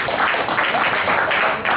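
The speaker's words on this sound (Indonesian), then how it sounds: "Tepuk tangan buat Robi." Audience applause in a talk-show or panel setting, a dense, steady wash of many hands clapping close and loud, sustained throughout without pause.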